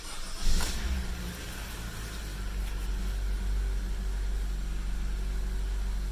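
A Honda HR-V just fitted with a new knock sensor being driven: a steady, broadband engine and road roar heard from inside the cabin, with a brief louder swell near the start and then an even drone and no talk.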